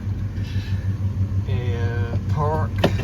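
An Oldsmobile 455 V8 idles at about 800 rpm with a steady low rumble, while someone talks over it.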